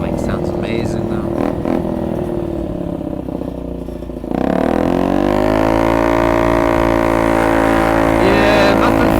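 A Honda Ruckus scooter engine hums while riding, starting rough and uneven under wind noise, then rising around the midpoint into a louder, steady drone with a clear engine tone. Someone talks over it.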